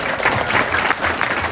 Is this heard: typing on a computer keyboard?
no